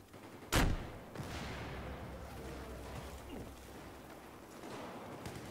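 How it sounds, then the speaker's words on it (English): One loud, sharp blast of rocket or gunfire in a video game opens the sequence, and a long, rumbling battle wash with faint distant shots follows it. "I'm gonna hit him with a rocket."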